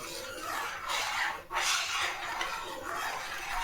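A spoon stirring milk with ground cashew, almond and sugar in a pot, giving a steady soft scraping and rubbing with one brief pause.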